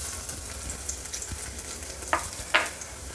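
Ten to twelve garlic cloves frying in oil in a kadhai, a steady near sizzle with two brief sharp clinks of stirring, no talk.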